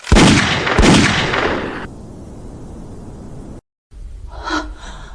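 Two loud gunshot blasts from a firing squad in quick succession at the start, each ringing into a decaying echo, then a quieter stretch with a brief gasp-like sound near the end.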